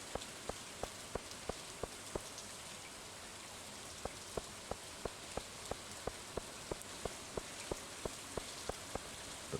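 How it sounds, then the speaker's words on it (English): Rain falls steadily in Stardew Valley as a soft, even hiss, with a regular series of crisp ticks repeating throughout, and no voices. "since it's raining"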